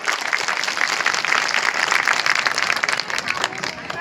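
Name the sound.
audience applause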